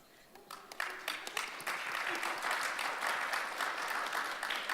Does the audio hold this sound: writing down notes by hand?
no